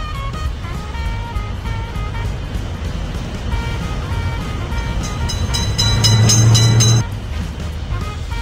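A cartoon train in a children's driving game rumbles steadily past a level crossing with a lifting gate, swelling louder toward the end before cutting off, with game music and sound effects layered over it.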